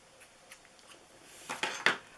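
A few soft snips of scissors, quiet at first, then two or three louder, crisper cuts close by.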